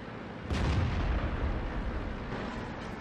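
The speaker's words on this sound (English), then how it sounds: "artillery is definitely having a pop at him" A heavy artillery boom in World of Tanks bursts out about half a second in, loud and close, then rolls into a sustained rumbling tail with low battle noise for the rest.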